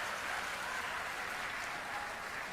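Audience applause at a coffee table book launch, a steady dense wash of clapping that stays even throughout, heard alone without talk.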